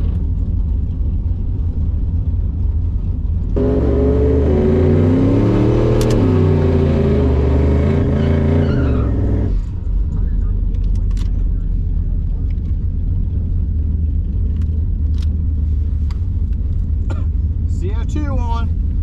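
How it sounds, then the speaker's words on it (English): Turbocharged Dodge Dakota R/T spinning its tires in a drag strip burnout box, a loud surging engine roar with rising harmonics for about six seconds, then dropping back to a low idle rumble while people talk nearby. "Going into the burnout box."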